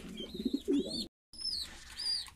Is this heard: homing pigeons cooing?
yes